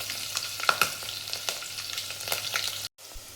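Cumin seeds and chopped green chillies fry in hot oil for an Indian dal tempering, a steady crackling sizzle with sharp pops, close and alone with no talk.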